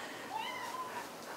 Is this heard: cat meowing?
yes